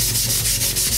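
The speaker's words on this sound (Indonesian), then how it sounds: "jadi kita mesti amplas bagian yang kita mau cat" Sandpaper rubbed back and forth over a wooden frame for a portable DIY vocal booth before painting, a steady close scratchy rasp with rhythmic strokes and no voices.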